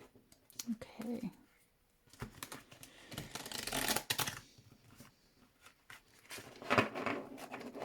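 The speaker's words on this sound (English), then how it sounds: "So this is quite a chunky deck, so it has to be shuffled in a bit of a different way." Shuffling a thick, oversized Modern Goddesses tarot deck: irregular bursts of papery riffling and card rustle, close and fairly loud, with brief pauses and handling between bursts and a quiet voice at moments.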